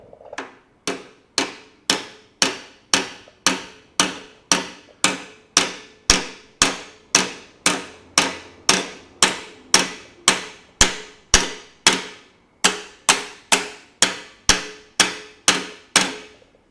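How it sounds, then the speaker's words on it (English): Steady hammer blows strike an air-cooled 1500cc VW engine, about thirty sharp metallic clangs at an even pace of roughly two per second, loud and close, with no talk. "Might actually get a slightly more serious hammer."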